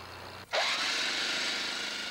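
An electric hammer digs into opal dirt at a mine, starting abruptly after a brief hum and then roaring loud and continuous at close range.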